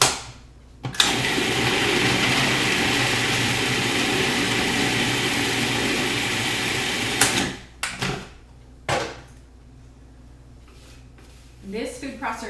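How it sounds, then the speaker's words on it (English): A Cuisinart 14-cup food processor blends beet bliss ball mixture in a kitchen with a loud, steady motor whir for about six seconds, then stops in short pulses, with faint talk after. "This food processor is a Cuisinart 14 cup food processor."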